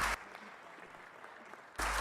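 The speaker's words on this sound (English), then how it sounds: "A round of applause as our panelists leave the stage and return to their seats." Applause rises from a keynote audience at a conference as the panelists leave the stage, faint and scattered in the middle. It is bracketed by louder bursts of dense clapping at the start and end.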